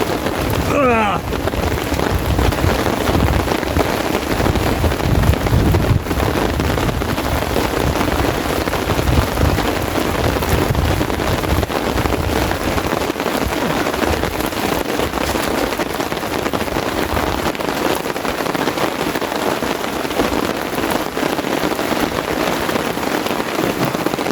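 Torrential rain with strong wind beats hard and continuously on a wild-camping tent, a dense, loud roar with gusty buffeting throughout and no break.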